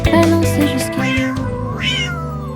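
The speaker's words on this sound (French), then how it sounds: "Le chat se balance jusqu'à l'eau." A cat meows twice with rising, drawn-out calls over a musical backing in a children's nursery-rhyme song, the second meow near the end standing out clearly.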